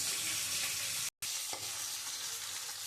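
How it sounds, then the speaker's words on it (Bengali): A catla fish head fries in hot oil with a continuous, dense sizzle that cuts out briefly for a moment, then carries on with a faint scrape. "মাথাটা খুব ভালো করে আমি ভেজে দিয়েছি"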